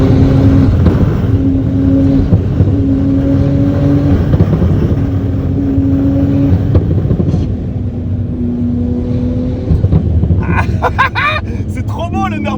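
A Porsche carrying four people laps the Nürburgring circuit, its engine droning loudly and steadily from inside the car with gear changes, while people talk over the noise.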